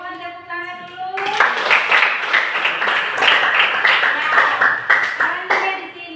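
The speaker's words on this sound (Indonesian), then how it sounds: "Tiap semua tepuk tangan dulu." A classroom group claps together after a lesson, loud, close and uneven clapping that bursts in after a brief voice and continues for about five seconds with ragged rhythmic peaks.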